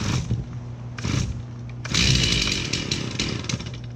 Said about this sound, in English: Once we have that pop, the chainsaw is popped